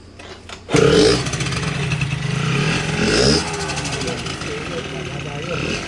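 A 50cc liquid-cooled scooter engine starts and then runs close by with a buzzing drone and one brief rise in revs, while people talk over it.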